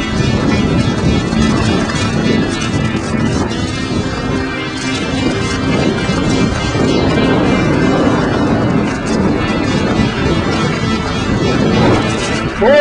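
Wind buffets the microphone in a wood, a continuous loud rumbling roar with gusty swells and no breaks.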